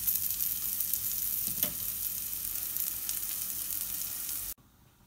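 Onion sautéing in a pan until translucent, a steady hiss of frying with one brief stir in the middle, then the sizzle cuts off abruptly near the end.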